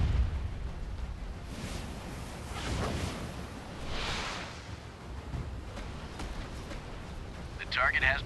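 Missile strikes in the naval combat game Warship Mobile 2, several muffled booming blasts and whooshes rolling over a constant noisy battle bed, with a synthetic voice announcing commands over the action.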